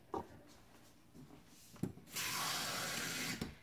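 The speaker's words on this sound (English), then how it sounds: "So I'm going to go ahead and fill it up with" Tap water runs from a faucet into an ultrasonic aromatherapy humidifier's tank, a steady rushing stream lasting about a second and a half after a few soft knocks and clunks, fairly close.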